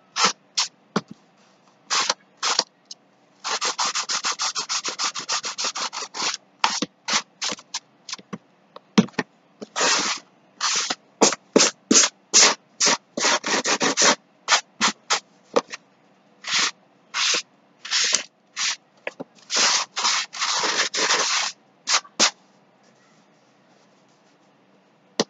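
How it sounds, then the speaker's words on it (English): Hand sanding the cut sides of a cardboard Lazy Susan: dry, rasping back-and-forth scrapes in short bursts and longer steady runs, close and fairly loud, with no talk. "So I'm just sanding the sides, just smoothing those out."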